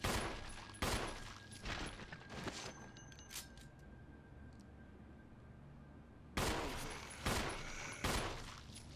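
Gunfire from the Resident Evil Remake video game on PC: loud bursts of shots at the start and again near the end, a quieter stretch in between, with a low game soundscape underneath.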